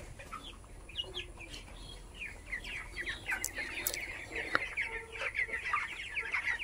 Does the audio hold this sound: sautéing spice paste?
no